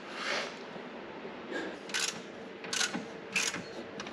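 A car's damper adjustment knob is turned toward soft in a cold garage, giving a few crisp mechanical clicks in small bursts, close by and fairly quiet, with no talking.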